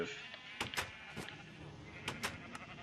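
Minecraft sheep bleating from a farm pen in the video game, a handful of short, sharp bleats scattered across a few seconds over a faint background hum, with no voices.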